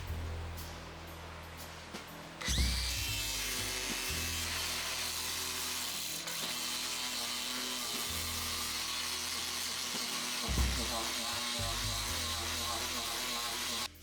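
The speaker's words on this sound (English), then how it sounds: "here I just use a coarse sandpaper on the grinder, and it works really good." Angle grinder fitted with a soft, coarse sandpaper disc sanding a black walnut tabletop: a steady, close whining motor with a rough abrasive hiss that swells as the disc bites into the wood, running continuously with slight pitch changes.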